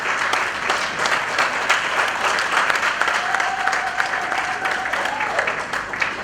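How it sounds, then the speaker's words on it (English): Sustained applause from a gala audience at a film awards ceremony in Northern Uganda, honouring the chairman; dense steady clapping throughout, with a faint tonal whistle or feedback line partway through. "Let's have a big round of applause for"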